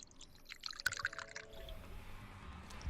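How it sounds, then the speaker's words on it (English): A liquid, scotch by its source, pours into a glass in a short, quiet trickle with light drips and clinks, then fades into low background hum. "Someone's pouring a bout of scotch by the sounds of it"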